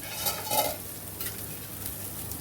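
Wheat-flour baati stuffed with paneer and cheese fries in oil, a soft, steady sizzle with a few brief crackles near the start, fairly quiet and unbroken by speech.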